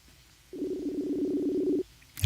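A telephone ringback tone on an outgoing call sounds as a single steady electronic burst of a bit over a second, clear and alone, followed by a short clatter at the end.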